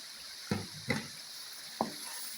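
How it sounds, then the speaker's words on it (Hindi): Yogurt, biryani masala and browned fried onions being mixed into chicken for Bombay biryani, three soft wet slaps and stirring thuds over a faint steady background hiss. "ये भी इसमें ऐड कर दूँगी"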